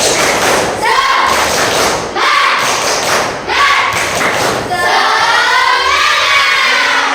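An Indonesian school class does rhythmic spirit clapping on a count: loud, punchy bursts of group claps and thumps in several quick sets, mixed with voices calling out together.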